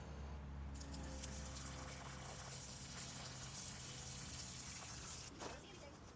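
Water rushes through household plumbing after the supply is turned back on, a steady hissing gush with a low pump-like hum beneath, continuous and close, fading slightly toward the end.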